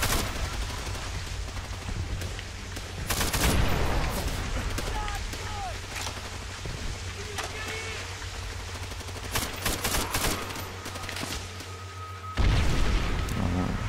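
Gunfire in the World War II shooter game Call of Duty: World at War, a steady rattle of shots and booms running throughout with a louder burst near the end, while someone talks over it.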